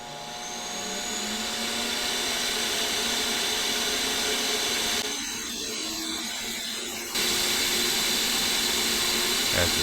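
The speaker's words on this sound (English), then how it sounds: "As the vacuum motors warm up, they'll become slightly more efficient." Vacuum motors hum steadily at close range, a continuous whining roar that holds near-constant loudness, dipping briefly midway before returning slightly stronger.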